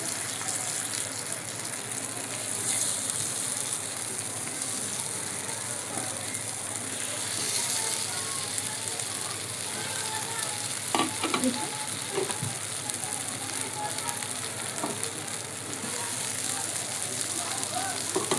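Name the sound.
tikki patties frying crisp in oil on grill pan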